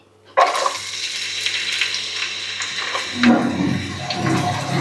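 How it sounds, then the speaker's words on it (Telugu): Chopped onions hit hot oil in a kitchen pan, giving a sudden loud sizzle that keeps going as a steady broadband hiss, with a brief surge partway through as they are stirred. No voices are heard. "ఆయిల్ వేసుకుందాం. కట్ చేసి పెట్టుకున్నాం ఉల్లిపాయలు వేసుకుందాం."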